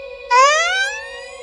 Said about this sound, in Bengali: রাত 2:17 বাজলেই যদি দূরে অ্যাম্বুলেন্সের সাইরেন শোনো